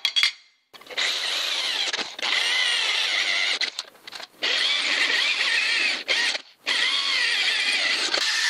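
A drill bores holes in metal brackets cut for a Land Rover Discovery restoration, a close, high whining screech in several bursts of one to two seconds with short pauses between them.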